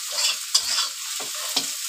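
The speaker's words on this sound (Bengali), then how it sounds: "তেজপাতা দিলাম একটা সেন্টের জন্য।" A bay leaf drops into hot oil while onion-fish dopeyaza cooks, giving a steady sizzle under repeated scraping stirs of a spoon in the pan, close and fairly loud, with no talking.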